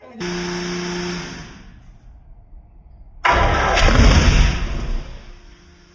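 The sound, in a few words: new 632 engine starting up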